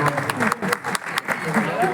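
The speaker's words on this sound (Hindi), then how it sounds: "तालियां कमजोर है" Audience at a Hindi poetry gathering claps in a short, uneven burst of applause, thin and scattered, with a voice speaking over it.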